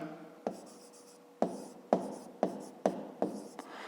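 A pen writing by hand on paper during a fifth-grade geometry exercise, with a series of distinct scratchy strokes and taps close up, spaced unevenly over a quiet background.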